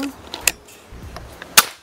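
Two sharp, snappy shots from an FX Airguns Bocap 500C PCP air rifle about a second apart, each a brief cracking pop with quiet mechanical handling noise between them.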